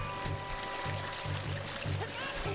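A waterfall in the game Zelda Ocarina of Time rushes as a steady, dense hiss, with soft low thuds recurring roughly every half second beneath it.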